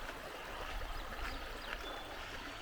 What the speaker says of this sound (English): I have always wanted to see this very spot where the Mississippi River begins